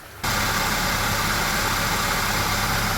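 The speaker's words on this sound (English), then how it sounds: "the engine is now running" A car engine starts and settles into a steady idle, a sudden onset after near-silence followed by an even, continuous hum and rumble close by, with air conditioning switched on in the vehicle being checked for a slow AC leak.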